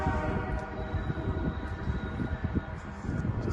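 A train rolls past at close range at Field, British Columbia, on the spiral railway near Calgary, a steady heavy rumble of wheels and cars with no pause.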